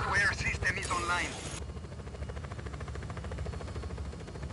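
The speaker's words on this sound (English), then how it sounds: "he's in a helicopter." Helicopter rotor chop from the video game Just Cause 4, a steady low pulsing drone that runs throughout, with a voice speaking over the first second or so before the rotor continues alone.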